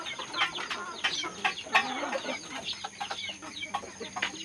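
Aseel chickens, including a Brazilian Asil breeder, cluck repeatedly in a small poultry pen after feeding. Close, busy, overlapping clucks and short calls come in a steady stream without pause.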